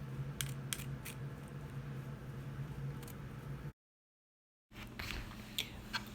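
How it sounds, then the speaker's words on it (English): A hand grinder crushing dried turmeric gives close, crisp crunching and scraping clicks in irregular bursts, broken by a short silent gap before the grinding resumes. "So here the hand grinder is working okay."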